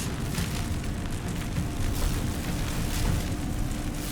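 A continuous rumbling, crackling barrage of explosions in Baldur's Gate 3, dense and loud throughout with no clear pauses or voices.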